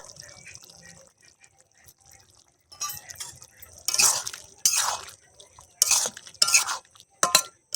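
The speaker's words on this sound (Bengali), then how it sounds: "ঘি আর গরম মশলা দিয়ে ভালো করে নেড়ে নিয়েছি।" Ghee and garam masala being stirred into a potato and cauliflower curry, with soft wet scraping and sloshing strokes in short bursts after a quiet start, close and moderately loud.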